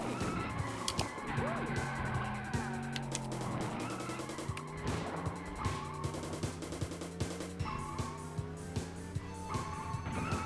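In a video game on an Analogue 3D console, engines rev and tires screech as cars repeatedly bump and collide, with sharp impacts scattered through a busy, continuous racing din.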